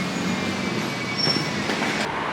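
Railway station ambience just outside Southampton Airport, a low steady rumble of a train on the tracks. Faint high squeals and clicks sit over the rumble, which stays moderately distant throughout.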